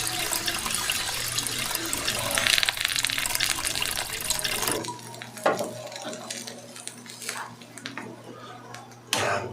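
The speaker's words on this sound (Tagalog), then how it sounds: "Tapos ngayon, lalagyan natin siya ng tubig." Water goes into a pot of chicken tinola being cooked, first as a loud, dense rush of pouring, then softer splashing and stirring sounds, with a person speaking nearby.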